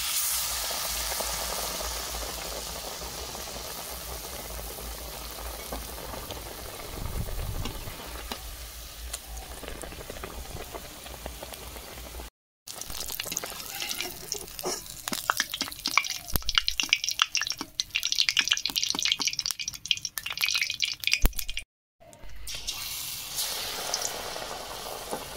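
Potato chops (aloo chop) frying in hot oil, a steady crackling sizzle with bubbling and occasional sharper spits, close and moderately loud, broken by two brief silences.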